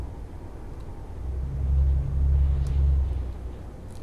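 Deep rumbling engine of a Volvo VNL 780 truck cruising in Euro Truck Simulator 2, a steady low drone that grows louder midway and then eases off slightly.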